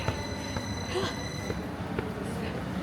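A train pulls into a station in Zurich, Switzerland, giving a steady rumble with faint high wheel squeal and mechanical whine, continuous and moderately loud at close range.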